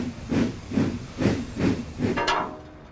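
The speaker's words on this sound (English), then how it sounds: "So Emily puffed away to get her snowplow fitted" Steam locomotive puffing away, with five rhythmic chuffs of steam in steady succession followed by a brief hissing burst, at moderate volume with no talk.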